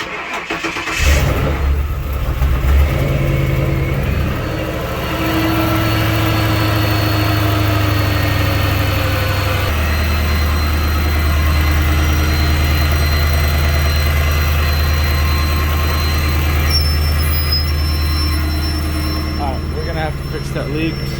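Ford Crown Victoria engine cranking and starting after a passenger-side valve cover replacement, then settling into a steady, close idle with a brief change in pitch partway through.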